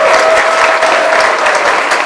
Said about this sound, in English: And a big round of applause for Michael Phelps.